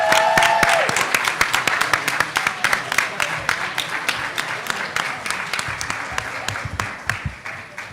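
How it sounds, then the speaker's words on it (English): A conference audience gives students a loud, sustained round of applause: dense, sharp claps close by, steady throughout and easing slightly toward the end, with brief voices near the start. "and I want to applaud you as well."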